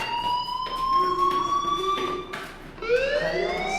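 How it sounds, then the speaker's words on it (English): Fire alarm sounding in the video game Life is Strange, a loud continuous electronic tone that briefly dips then resumes, heard alone without speech. "Hey, do you hear that fire alarm?"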